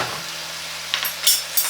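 Beef sears in a hot pan for chow mein, a steady broadband sizzle with a few brief scraping stirs near the end, close and alone.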